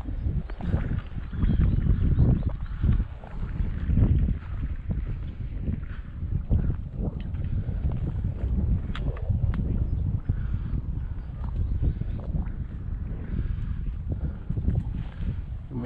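Strong wind buffeting a small fishing boat at sea, a steady loud low roar with gusting microphone rumble throughout, mixed with faint water and hull noise.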